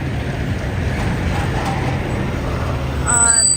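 Loud New York City street traffic heard from close by, a steady roar of engines and road noise with a brief horn-like tone near the end.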